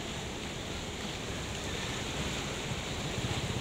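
Strong floodwater rushes past during Typhoon Ulysses in Tuguegarao City, a steady broadband roar of churning current mixed with wind noise, continuous and fairly distant with no speech.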